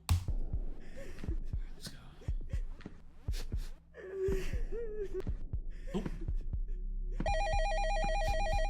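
A video-game telephone rings with a repeated electronic trill building over the last seconds, following thumping heartbeat-like pulses and tense sound effects, fairly loud and close.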